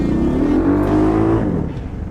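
A Chinese mini tractor engine labouring in reverse gear, a loud close drone whose pitch rises under load, then eases and fades slightly toward the end.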